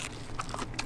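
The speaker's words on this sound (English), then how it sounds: "I heard that crunch." Someone bites into crunchy fresh greens grown in a frost-proof produce garden: a few quick, close crunching snaps in under a second.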